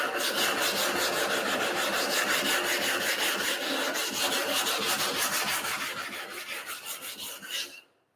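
A diamond plate scrubs back and forth across a wide, flat sharpening stone to flatten its base, a steady gritty rasping with rapid strokes that runs close and loud, then slows and stops near the end.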